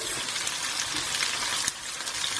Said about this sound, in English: We're then going to add our thinly sliced onions